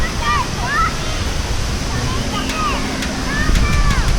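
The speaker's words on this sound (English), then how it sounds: "We're getting sprayed by the waterfall." Rainforest waterfall near a beach in Costa Rica gives a steady, loud rush of falling and spraying water. People talk over it while high chirps and squeaks ride above the roar.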